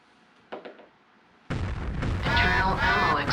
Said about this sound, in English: Internal ammo explosion detected.